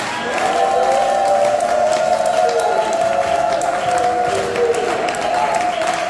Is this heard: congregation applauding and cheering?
yes